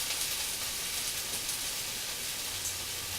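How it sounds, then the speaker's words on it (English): Sliced green onions sizzle in oil in a pan, a steady soft frying hiss with no pauses and no talking. "3 green onions that I sliced up. Those are going to go in with the oil that's in the pan."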